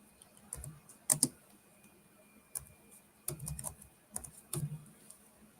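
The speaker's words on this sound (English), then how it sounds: "I'm typing." Someone types on a computer keyboard in a dim room, with scattered clusters of close, light key clicks separated by short pauses, faint against quiet room hiss.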